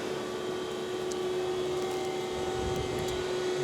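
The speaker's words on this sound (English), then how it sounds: "You can hear the motor running right here." Steady electric motor hum of a Mitsubishi RB32 CNC angular cylindrical grinder running idle in a shop, a constant tonal drone with broadband whir, continuous and fairly close, no talk.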